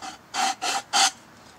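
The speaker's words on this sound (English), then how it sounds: "I just take a sanding block like this" Sanding block rasping back and forth over a square wooden peg being rounded, three close, even strokes followed by quiet.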